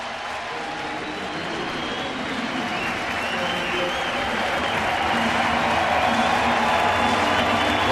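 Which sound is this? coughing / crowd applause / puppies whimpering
crowd applause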